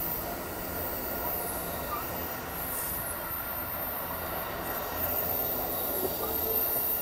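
Amtrak Coast Starlight passenger train passing, a steady loud rumble and roar of rolling cars with high wheel squeal running throughout, close by and continuous without talk.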